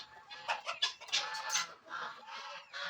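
Poultry calling on a Pune-area hatchery farm where turkeys are kept, with several close, clucking and gobbling bursts in quick succession, loud and busy, some overlapping, with no talk.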